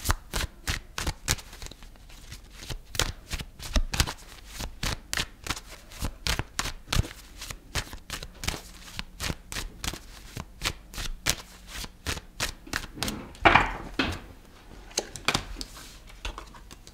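Tarot cards being shuffled by hand, a rapid series of crisp riffling slaps and flutters repeating in quick bursts, close and clear with no talking.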